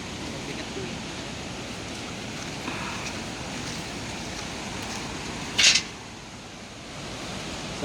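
Heavy flooding river current at Science Park River, Cabuyao, Laguna, making a constant rushing wash with no voices and a short sharp click near the end.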